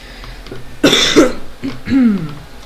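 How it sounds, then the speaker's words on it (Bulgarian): A single person coughs in a short burst during a Survival game session, a close, loud rasping cough followed by a brief throat-clearing sound, with no talk. "Просто кашлица."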